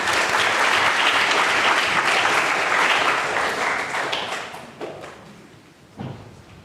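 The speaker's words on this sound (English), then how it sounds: "So let's give a round of applause to welcome Dr." Audience applause welcomes a panellist at a symposium: dense, steady clapping fills the room, then thins and fades toward the end with a few last scattered claps.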